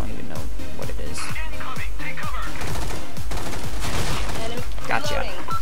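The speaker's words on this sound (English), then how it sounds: "let's try out the MP5 AK-7, whatever it is" An MP5 fires in the online shooter Soldier Front 2 in dense, loud automatic bursts and rapid single shots with sharp cracks throughout, while other game sounds and effects play alongside.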